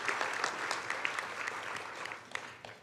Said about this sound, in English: give yourself a big round of applause for what you do